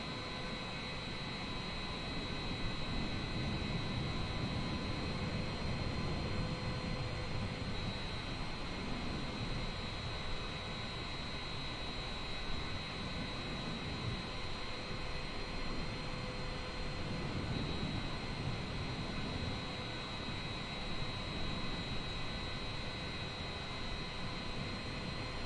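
Jet airliner engines at a busy international airport, a steady continuous roar with broadband rumble and a faint high whine holding level throughout, no voices over it.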